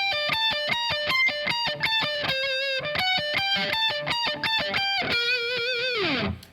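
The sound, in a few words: neoclassical electric guitar solo with pedal tones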